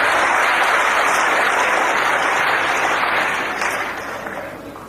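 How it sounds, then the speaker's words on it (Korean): Loud audience applause at a Korean stand-up comedy show, a thick continuous clapping roar that holds steady and then gradually fades near the end, with no talk over it. "여기에 공감하신 분 박수 한번"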